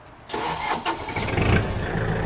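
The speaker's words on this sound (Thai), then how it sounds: "เครื่อง ติดง่ายนะครับ เสียงเครื่องปกตินะครับ" A Kubota MU4902 tractor diesel engine cranks and catches, then settles into a loud, steady close-up idle with a few uneven surges early on.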